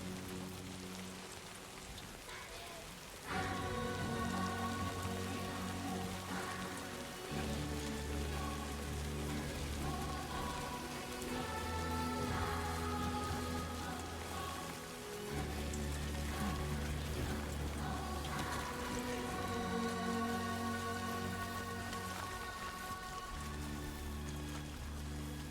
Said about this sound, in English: Lou is not getting too upset with the rain